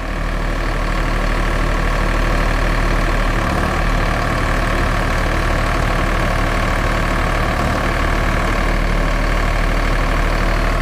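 A Sonalika tractor engine driving a rotavator through farm soil, a loud, continuous diesel drone and clatter at steady revs, close by and unbroken throughout.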